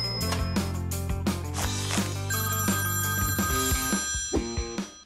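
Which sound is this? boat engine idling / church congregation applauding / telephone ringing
telephone ringing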